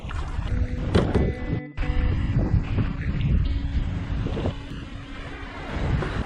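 Strong wind buffets the microphone while a kayak pushes through rough, whitecapped open water on Lake Superior near Grand Island, Michigan, with loud, gusty rumble and splashing close by.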